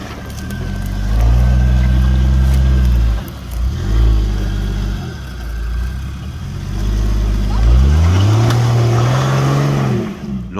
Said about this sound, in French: nous sommes allés sur la piste voir quelques 4x4 en train d'évoluer